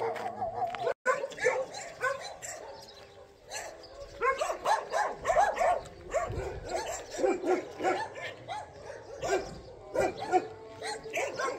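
About fifteen dogs bark together outdoors, with overlapping yaps, barks and yips coming from several animals at varying distances in a dense, uneven chorus.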